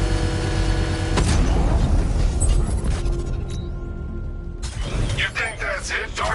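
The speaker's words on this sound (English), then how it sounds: "I can use the power winch to trigger a controlled explosion." In Batman: Arkham Knight, a power winch pulls at an exposed bomb payload, giving a mechanical ratcheting strain and then a muffled blast as it triggers a controlled explosion, with game sounds and voices around it.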